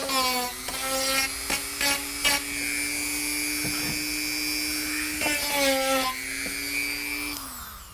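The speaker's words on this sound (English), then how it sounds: "you can just use your Dremel tool and just kind of, you know, nick them and they'll come off" A Dremel rotary tool trims leftover plastic inside an airbrush case, its high-pitched whine rising and dropping through several short bursts and a longer sustained run, close and loud.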